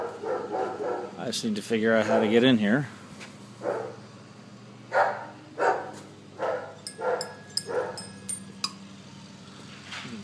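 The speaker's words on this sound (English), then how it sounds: "In case you can't tell by their bark, they are German Shepherd dogs." Two German Shepherd dogs barking outdoors in the morning, a run of loud close barks and yips under someone talking, then scattered single barks between his speech.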